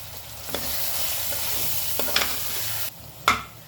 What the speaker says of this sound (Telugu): ఇప్పుడు బాగా ఫ్లేమ్ని స్లో చేసేయండి, ఇది బాగా ఫ్రై కానీ.